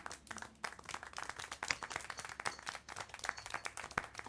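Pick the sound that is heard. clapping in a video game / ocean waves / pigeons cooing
clapping in a video game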